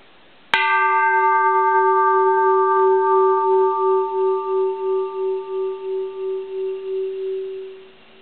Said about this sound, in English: That is one of the greatest sounding bells I've ever come across